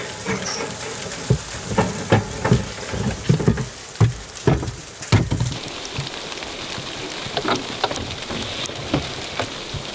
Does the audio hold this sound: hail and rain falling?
yes